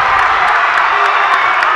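A packed high-school basketball crowd roars steadily as Skyview plays at Mountain Crest, with sustained cheering and shouting from the stands and scattered whoops and claps rising through the din.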